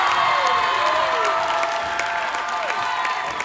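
A gym crowd at a volleyball match cheers and applauds steadily after a long rally, a dense roar of voices with shrill whoops and sustained clapping throughout.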